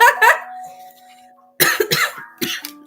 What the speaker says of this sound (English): Coughing is always a sign.